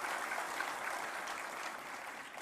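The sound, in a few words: audience applauding to welcome the chief minister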